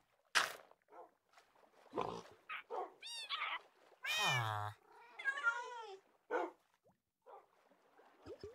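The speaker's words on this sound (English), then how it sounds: "Cute little kitten." A cat meowing in the Minecraft video game, several separate plaintive meows and yowls spread over a few seconds with quiet gaps between them, clear and close, with no talking.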